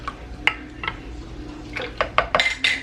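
Thick cream scraped out of a container in a home kitchen, heard as a few scattered utensil scrapes and clinks that grow busier and closer toward the end, with no talking.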